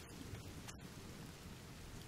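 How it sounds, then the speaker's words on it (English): Steady rain in the video game The Forest hisses continuously, a dense even wash of falling drops with a low rumbling undertone and no voices. "It's raining, too."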